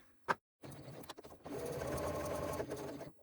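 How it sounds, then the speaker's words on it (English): A sewing machine top stitches along a bag strap, with a brief tap and short bursts of stitching before a steady, close, mechanical run of needle strokes that stops near the end. "I use the edge of my presser foot as a guide to get a nice straight top stitch"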